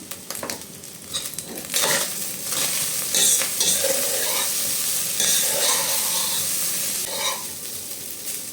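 Salt is stirred into cooked rice with fried potato in a pan, a spoon scraping and tossing steadily over a soft sizzle, close and fairly loud, no talking.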